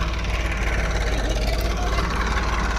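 A farm tractor's engine runs steadily in a field with grass, a continuous low rumble close by, heard alone with no talk.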